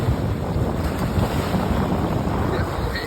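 Lake waves lap steadily under heavy, continuous wind buffeting across the microphone, with no voices heard.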